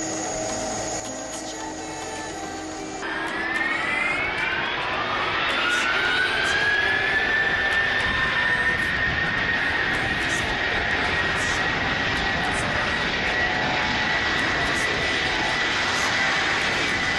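A jet airliner on its takeoff roll builds from a low rumble into a loud, sustained roar with a rising whine that settles into a steady high tone, continuous and close.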